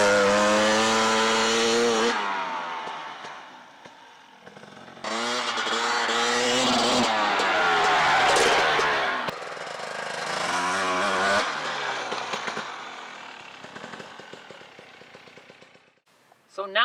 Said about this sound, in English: how do we get our motorcycle down a steep hill